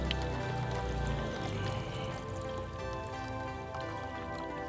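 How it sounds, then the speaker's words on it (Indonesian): Rainwater poured onto a batch of fertilizer, giving a steady splashing, trickling wash of liquid that runs continuously at close range with no speech. "disiram air hujan aja"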